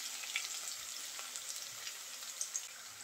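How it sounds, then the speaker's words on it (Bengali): Chopped garlic, onion and bay leaf sizzle steadily in hot oil in a pan, a quiet, even frying hiss with a few soft pops and stirring scrapes, no voices. "হালকা একটু ভেজে নেব।"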